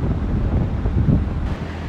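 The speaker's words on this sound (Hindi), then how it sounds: "आज का वेदर देखो कितना अच्छा हो रहा है, थोड़ी थोड़ी हवा चल रही है" Wind buffets a microphone outdoors during a motorcycle ride, a low rumbling whoosh that stays steady and fairly loud for a couple of seconds.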